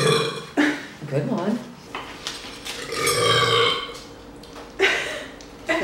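A woman lets out several loud, drawn-out burps in quick succession, with brief speech and laughter in between.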